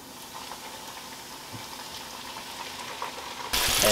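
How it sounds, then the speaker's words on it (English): Breaded crappie fish fries in hot oil with a steady, soft crackling sizzle, then a sudden louder burst of hissing near the end. "And now we just let it sizzle for a while."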